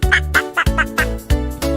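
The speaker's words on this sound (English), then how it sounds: "Out pops a little green duck so keen." Cartoonish duck quacks for a toddler nursery-rhyme animation, a quick run of about six nasal, evenly spaced quacks, close and clear.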